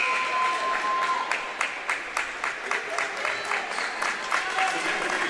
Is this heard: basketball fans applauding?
yes